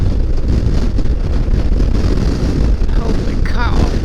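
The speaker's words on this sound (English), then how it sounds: "Still nice out, but it's just really windy." Strong wind gusts across open cotton fields, buffeting the microphone with a loud, continuous low roar and rumble, with a faint whistle rising near the end.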